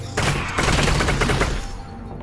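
Gunfire in Half-Life: Alyx, a loud rapid volley of close shots rattling for about a second and a half before cutting off into a lingering echo.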